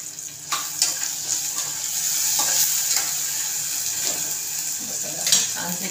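Onion garlic masala frying in hot oil for masala rice, a steady close sizzle with a few soft stirring scrapes.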